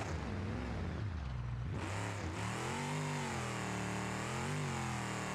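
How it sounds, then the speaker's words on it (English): Truck engine in BeamNG revving hard through gears on an off-road river course, a continuous throaty drone that dips, then climbs again with rising pitch, close and loud with no voices. "enjoying the sounds of this truck because this sound is just amazing"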